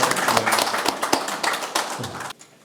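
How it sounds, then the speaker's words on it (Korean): Applause at a book launch ceremony for a white paper on teachers dismissed over the education democratization movement: a brisk patter of hand claps from a nearby audience, fairly loud, that stops abruptly near the end. "큰 박수 부탁드립니다"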